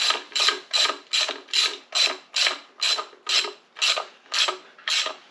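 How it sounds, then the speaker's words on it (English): A ratchet tightens oil pan bolts on a Dodge Magnum 5.9L engine, giving about twelve evenly spaced rasping clicks in a steady rhythm, close and clear with no talking. "So I'm just going to go ahead and put all the bolts in. I'll snug them on down and tighten them up"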